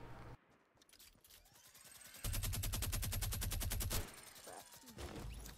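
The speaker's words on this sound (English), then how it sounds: "He's trying to shoot at me. The sniper." Gunfire in Fortnite with a sniper shooting, heard as a rapid run of evenly spaced loud shots lasting about two seconds, with scattered shots before and after.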